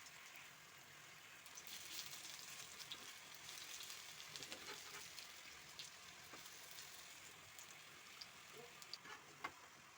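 Bhedailota leaf pakoras frying in hot oil, giving a steady soft sizzle and crackle throughout with scattered small pops, moderately close and with no talking.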